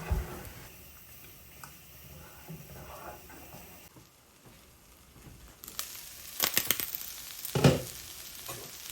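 Cumin, onion and tomato fry in mustard oil in a saucepan, a soft steady sizzle with occasional stirring scrapes that grow louder and busier toward the end.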